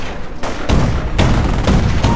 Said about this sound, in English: Auto cannon blazing away, but only knocking up some dirt rather than some bodies.